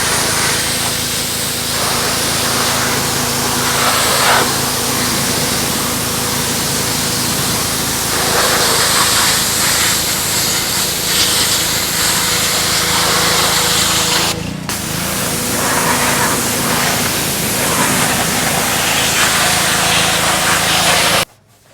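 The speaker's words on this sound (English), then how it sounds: "I'm going to spray it with the pressure washer, work all this stains off" Pressure washer spraying a heavily soiled, high-mileage car engine, a loud continuous hissing blast of water that shifts as the jet moves across grimy surfaces, with a brief break near the end.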